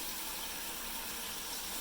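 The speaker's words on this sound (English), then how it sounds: "I'm just putting water on it, and I'm going to fill the bottom of the bucket up" Water poured into a bucket onto dry coconut coir for a compost toilet, a steady even rushing pour that fills the whole short stretch at a low level.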